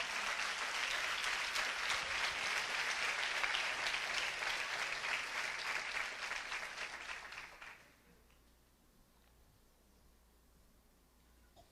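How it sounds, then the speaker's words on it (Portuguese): A church congregation gives dense, sustained applause for about eight seconds, then it fades out quickly into near quiet. "Você pode aplaudir ao Senhor?"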